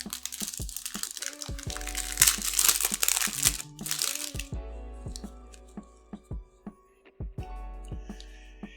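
Plastic packaging around a set of Taito Egret 2 Mini cards is ripped open, making loud, close crinkling and crackling for several seconds, then a few sparse clicks and rustles as the wrapper is pulled away, with no voices.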